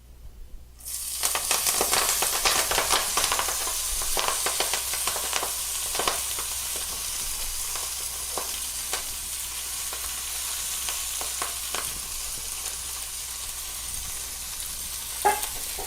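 Collard greens sautéing hot and fast in olive oil in a pan, a loud steady sizzle that bursts in when they hit the oil and keeps crackling with occasional louder pops, no talking.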